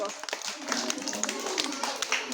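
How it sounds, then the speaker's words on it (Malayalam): Children in a classroom number game clap together in a quick, scattered burst of many hands, mixed with voices and room chatter throughout. "ക്ലാപ്പ് കൊടുക്കോ"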